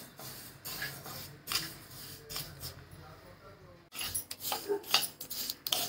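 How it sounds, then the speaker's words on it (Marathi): Sesame seeds dry roasting in a pan over a very low flame, a soft scraping and rustling of seeds shuffled against the metal with occasional light clinks, quiet and close. "असं मंद गॅसवरती एकदम गॅस सिमवर करून ही तीळ भाजून घ्यायची छानपैकी"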